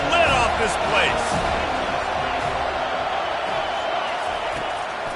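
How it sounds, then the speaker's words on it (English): A packed stadium crowd at a football game roars continuously on third down, a dense, loud wash of voices with a commentator talking over it. "3rd down, and this crowd is tearing the lid off this place."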